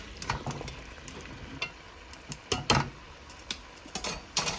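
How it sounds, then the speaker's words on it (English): Squash stir-frying with duck meat in a pan, a soft steady sizzle broken by irregular scraping and clacking as the spatula stirs, quiet and close without talk. "At this time I'm gonna add the squash in."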